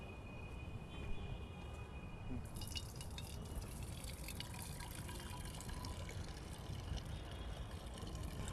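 Treated water from a biogas digester system trickling and dripping, a continuous low watery wash with faint splashes, growing brighter and busier partway through.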